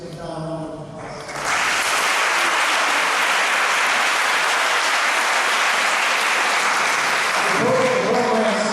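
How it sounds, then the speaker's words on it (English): An audience at a high school athletic hall of fame induction ceremony bursts into sustained, loud applause after a brief spoken lead-in, the clapping steady until a voice returns at the end. "So give Don London a applause."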